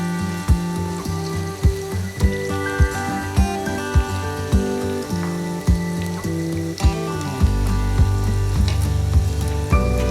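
Pakoras for kadhi frying in hot oil, a steady sizzle with regular soft taps from stirring, the frying growing denser and louder near the end, with no one talking.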